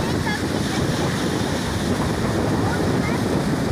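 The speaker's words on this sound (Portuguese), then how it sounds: "Muito vento" Strong wind buffets the microphone at a seaside fishing spot, a loud, constant rumbling roar with surf churning underneath.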